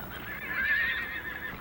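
A single horse whinnies once, a clear, moderately close neigh lasting about a second against a quiet background, with no talking.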